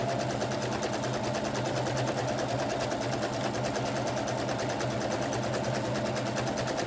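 A Baby Star sewing machine runs steadily while chain piecing fabric, holding a continuous, even mechanical whir with a rapid stitching rhythm throughout, close and moderately loud with no pauses.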